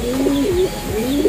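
A racing pigeon, the sire of a race winner, gives a close, loud coo in a breeding loft, a wavering, throaty call that rises and falls twice in quick succession.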